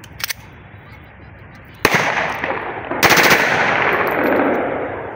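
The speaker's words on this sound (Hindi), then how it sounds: "अब करते हैं दूसरे मैगजीन, जो कोटा मैगजीन है, इससे करते हैं ब्रस्ट फायर।" A 30 bore Scorpion pistol with a 20-round magazine fires a burst, heard as two sharp rattling bursts of rapid gunfire at close range. A faint shot comes earlier, and a long outdoor echo trails after them.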